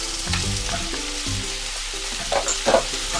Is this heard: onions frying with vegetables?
yes